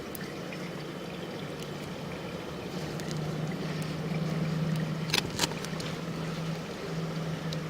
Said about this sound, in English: Got some water running in the system.